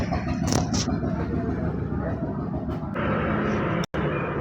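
A Hanif Parivahan bus driving across a bridge in Patuakhali at night, a continuous loud road and engine rumble with wind noise, briefly interrupted near the end.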